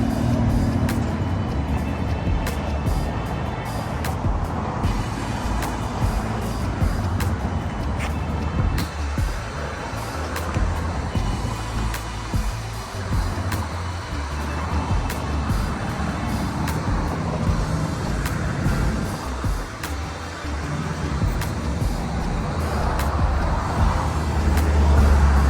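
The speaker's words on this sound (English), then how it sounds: "Sorry for the traffic noise." Steady road traffic roars past outside after a car wash, with cars and heavy trucks sweeping by continuously and loudly, one air-brake hiss among the passing vehicles.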